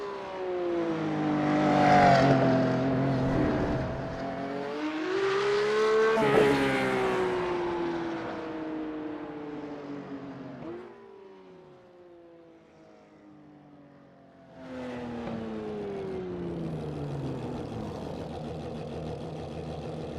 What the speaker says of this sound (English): I put my foot flat on the throttle, and then I wait for green